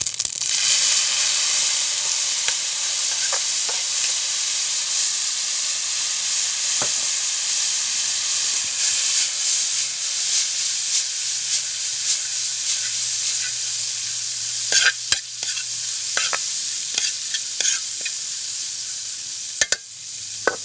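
Dried fish sizzling and popping in a hot oiled pan, a steady loud hiss with scattered sharp crackles, close up and with no talking.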